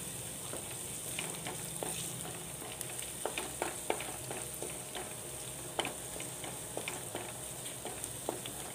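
Ginger, garlic, curry leaves and green chilli frying in a pan for a green gram masala, a steady close sizzle with scattered sharp pops and crackles throughout, no talking.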